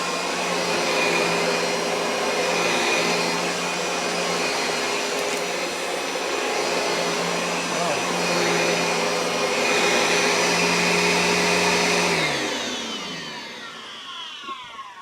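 An old Riccar N2200 vacuum cleaner runs steadily with a loud, close motor whine for about twelve seconds, then spins down as it is switched off.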